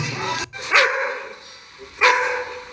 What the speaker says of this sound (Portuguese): Cachorro valente.